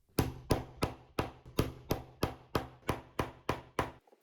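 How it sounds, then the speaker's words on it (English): A hammer sets metal eyelets into fabric with ten sharp, evenly spaced blows about two per second, loud and close, then stops. "To put in eyelets, just cut a small hole in the fabric and then use a hammer"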